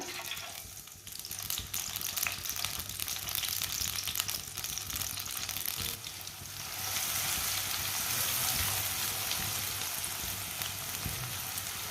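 Finely chopped onion fries in half a cup of hot oil in a pan, giving a continuous sizzling hiss with occasional stirring clinks that grows a little brighter and louder partway through.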